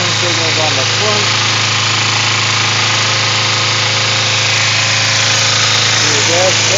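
A 2006 Kawasaki Ninja motorcycle engine idles with a steady, even hum close by, while someone talks over it.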